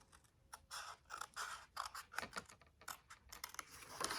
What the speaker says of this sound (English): cut down to our second score line